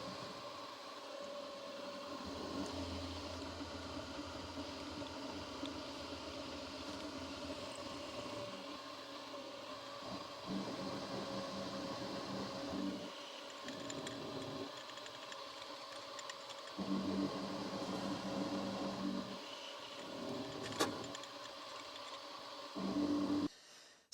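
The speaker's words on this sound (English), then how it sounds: "that first end mill is just too blunt now, so I'm going to try a new one to see if it cuts this a little easier" A fresh end mill cuts into a steel guitar bridge base, giving a continuous grinding whine from the milling machine that drops out and resumes in several passes over a steady motor hum.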